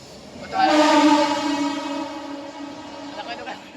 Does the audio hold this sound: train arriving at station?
yes